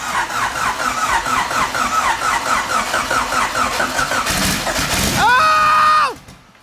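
A compound twin-turbo Honda Civic D16 engine cranks with a steady, rough rhythmic chug for several seconds, then catches and fires into a loud, harsh running roar up close before abruptly cutting out.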